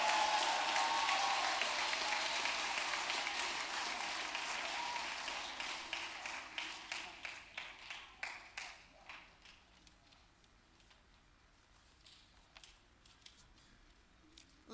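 A church audience applauds a graduating school class, dense sustained clapping that gradually thins into individual distinct claps and dies away to near quiet.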